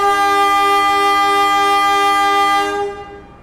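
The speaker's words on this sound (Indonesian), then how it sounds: "kereta Probowangi sudah diberangkatkan teman-teman" Probowangi economy train horn sounding a long, loud sustained blast on departure, steady for about three seconds before fading.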